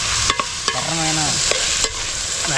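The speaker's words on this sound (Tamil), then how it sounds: "ஓகே, நம்ம நெக்ஸ்ட் பார்த்தா உருளைக்கிழங்கு கொட்டிடுவோம்." Potato pieces stirred in a hot pan for veg kurma, with a spatula scraping and knocking against the metal over a low sizzle, a few distinct close strokes and a brief squeaky tone.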